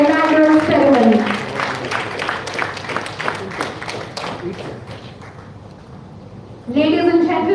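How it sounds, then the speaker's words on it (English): An audience claps for the chief guest at an inaugural ceremony, a dense patter of applause between stretches of a voice on a loudspeaker, tapering off before talk resumes. "let's have a huge round of applause for our Chief Guest of our inaugural ceremony"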